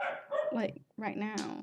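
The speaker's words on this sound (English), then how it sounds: "You can hear all the dogs probably in the background now." Dogs bark at people passing the house, short yips barely separable beneath a person talking close to the microphone over the brief moment.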